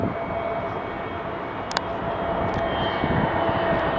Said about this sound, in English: here comes the TAP Air Portugal Airbus A321 in